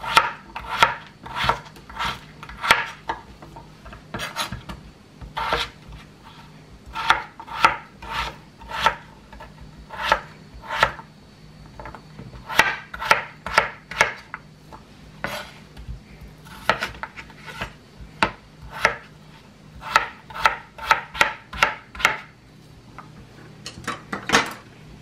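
A knife chops potatoes and vegetables on a cutting board while a Mexican bistec ranchero is prepared, sounding as close, rapid bursts of sharp knocks separated by brief pauses, with no talking.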